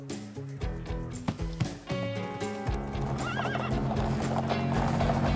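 A cartoon horse whinnies and neighs while hooves clip-clop in quick rhythm, over a busy animated soundtrack that grows fuller toward the end.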